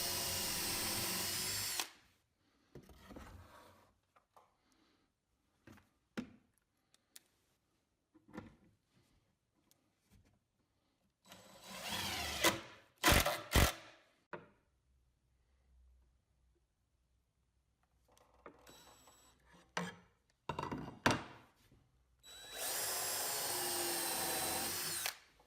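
A power drill bores into a wooden spacer board in several short bursts separated by quiet pauses, close and clear, with handling knocks between runs and no talk.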